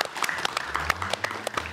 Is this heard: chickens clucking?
no